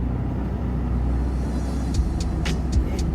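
A 31-year-old Japanese import car cruising along a winding road, a steady low engine and tyre rumble with a few brief higher squeaks or rattles near the end, no talking.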